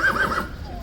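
A horse at Horse Guards whinnies loudly and close, a quavering neigh of several rising-falling pulses that fades out within a second, with no voices.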